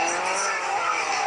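A video game car drifting, its engine roaring loudly and steadily under a continuous tire skid and squeal, close and constant throughout.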